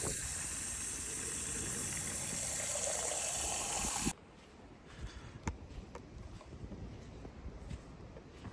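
Water from a campsite tap gushing steadily into a container for about four seconds, loud and close, then cutting off to quiet outdoor ambience with a few small knocks at a beach campground.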